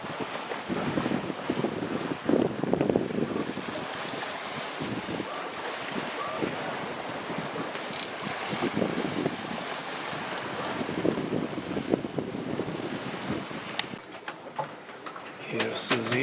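Sailboat sailing slowly at sea at about 5.5 knots, with a constant wash of waves against the hull and heavy wind buffeting the microphone, close and continuous.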